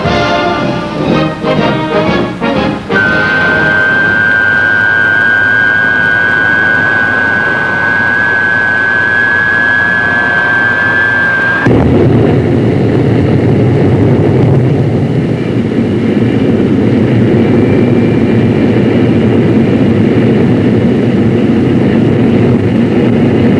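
A McDonnell Banshee jet fighter's engine roars through its takeoff run, a steady loud broadband rush with a rising whine that breaks into a harsher, deeper roar partway through, with no talk.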